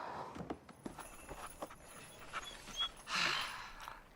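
Dog panting, soft rapid breaths in a quiet setting with light footstep-like taps, building to a louder, closer burst of breathing near the end.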